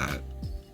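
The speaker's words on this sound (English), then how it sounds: "it's almost like a rubber shoe, a wet shoe squishing on the floor" A short, wet, rubbery squelch with a low sliding squeak partway through, close and fairly loud, heard alone.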